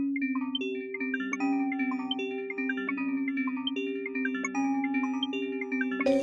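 Sytrus synth line run through overdrive, iZotope Vinyl and EQ, with a thin, vintage tone: a steady repeating melodic pattern of plucky notes over a held low tone, with no voices and a bright burst at the end.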